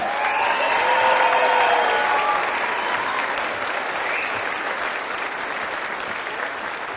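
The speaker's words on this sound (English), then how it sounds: "let's give them a cheer and a shout out for all the work they do" A large crowd at a spring commencement ceremony applauds and cheers for facility staff, a dense sustained wash of clapping with a few whoops on top, loudest at first and easing slightly as it continues.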